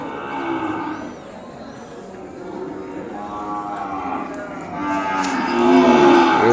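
Cattle at a weekly livestock market in Kodad town, including a bull, low bellowing moos rising and falling amid a busy crowd murmur, growing louder toward the end.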